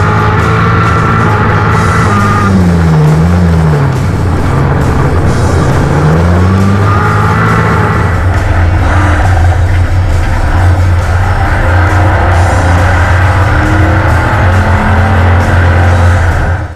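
Loud, saturated roar of racing car engines, with pitch sweeping up and down as cars pass and accelerate, continuous throughout.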